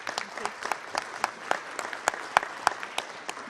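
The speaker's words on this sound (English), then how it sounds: "Round of applause, please, ladies and gentlemen." Audience applause in the ECOSOC chamber at a senior-level meeting: sparse, distinct handclaps from a modest crowd, uneven and moderately loud over a few seconds.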